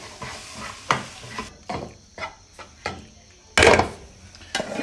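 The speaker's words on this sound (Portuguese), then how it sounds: "E agora é só escorrer ele e misturar aqui dentro" Banana blossom being stirred and mixed in a pan, with repeated scraping, knocking strokes of a utensil against the pan over a soft sizzle, close up and with no talking.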